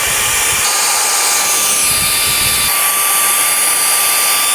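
A pneumatic or power tool whirs loudly and steadily, spinning out the bell housing bolts around a car's gearbox during a clutch replacement, with no voices.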